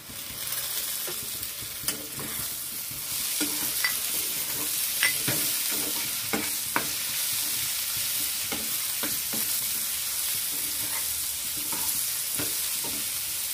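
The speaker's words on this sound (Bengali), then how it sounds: "পেঁয়াজটাকে ভালো করে ভেজে নিয়ে দিয়ে দিচ্ছি টমেটো।" Onion fries in a pan with tomato added, a steady faint sizzle broken by repeated sharp stirring scrapes and clicks of a utensil throughout.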